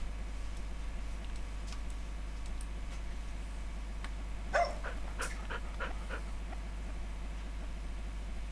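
Dog in Agricultural Simulator 2013 gives a short burst of several barks in the middle, fairly close, over a steady low engine drone; no talking.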